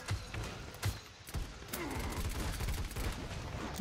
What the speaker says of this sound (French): Donc là, quelqu'un me tire dessus.